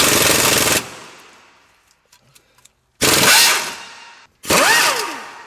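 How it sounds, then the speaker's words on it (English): A pneumatic impact wrench hammers at the fastener on a car's AC compressor clutch in three loud, close rattling bursts, separated by a pause with faint clinks. "I'll take a pry bar or something and wedge it in to that back side of the fastener and just hit this with an impact"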